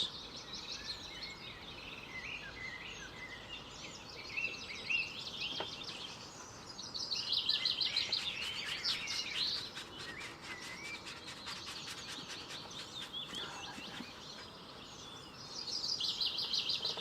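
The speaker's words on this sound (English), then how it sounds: "Goldfinch." A goldfinch sings outdoors in faint, twittering bursts of bright chirps and trills, heard at a distance against a soft background hiss.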